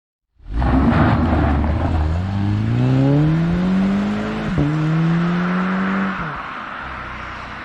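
A 2010 Volkswagen Golf GTI Mk6 pulls away loud and close, its engine note climbing steadily through the gears with a brief dip at a shift, then settling into a steady drone before easing off.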